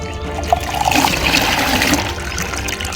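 Water splashes and trickles steadily into a bucket on a carrot farm, a continuous close pour with a bubbling, gurgling texture and no voices.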